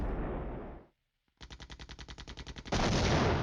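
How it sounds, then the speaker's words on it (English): Artillery bombardment in the wargame Flashpoint Campaigns: Southern Storm, a short silence then a rapid rhythmic string of about a dozen sharp gunfire bursts, ending in a loud sustained rumble of fire, with no talk. "And we start with artillery bombardment."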